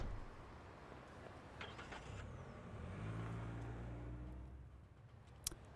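Taxi cruising in Yakuza 0, a steady, fairly quiet engine drone with low rumble that swells slightly midway, ending with a brief sharp tick near the end; no talking.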